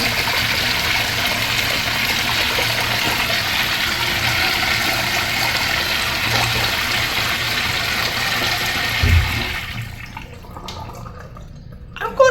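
A 1960s second-generation Crane Bedfordshire urinal flushing, a loud, steady rush of rinse water pouring close by for about nine seconds before tapering off into trickles and drips.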